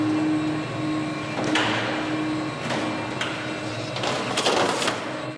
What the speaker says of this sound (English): Now I carefully open the clutch and allow the metal strips we have just precisely profiled to smoothly run out in continuous operation.